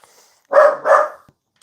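A neighbor's dog gives a quick pair of barks close together, moderately loud and a bit distant, then silence, with no voices.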